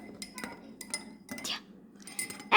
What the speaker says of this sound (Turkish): Kakaomuzu da şöyle dökelim ve karıştıralım.